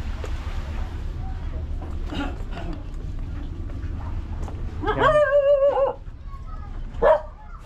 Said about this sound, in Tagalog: Gagalit yung aso.